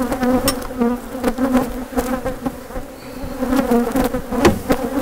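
Honey bees buzz loudly and steadily in an open hive as frames are packed tightly together, a dense continuous drone with shifting pitch and brief knocks of frames and handling.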